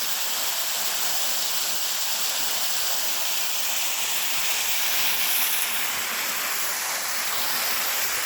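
Steady, full roar of the waterfall on Chamberlain Creek in Jackson State Forest, a dense broadband rush of falling water that holds constant and loud from start to finish with no voices over it.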